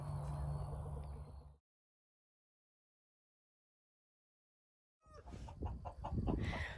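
Chickens cluck close by in a chicken run, one burst of clucking, then a few seconds of silence, then a second livelier burst.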